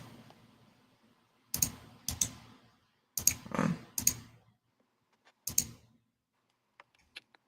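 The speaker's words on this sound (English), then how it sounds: "You're hitting that keyboard button." Several sharp clicks come in small bursts of two or three with pauses between, close by, followed by a few faint taps near the end.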